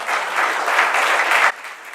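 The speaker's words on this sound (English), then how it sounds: "I think he deserves a round of applause." Loud, dense applause from an event audience, close and sustained for about a second and a half before dropping off sharply to a quieter tail.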